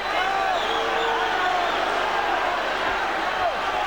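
A boxing crowd roars steadily through the late rounds of the Dynamo Dunne v Billy Schwer fight of 14/10/00, a loud, dense arena wash of cheering and shouting with no break.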